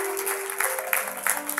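Church congregation clapping hands together during a worship service, a steady rhythmic patter of many palms with a sustained tone ringing underneath, moderately loud and continuous.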